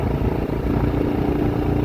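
A motorcycle engine on a mountain road toward Shinkula Top chugs in a steady low rumble with slight clatter, close and continuous for a brief moment.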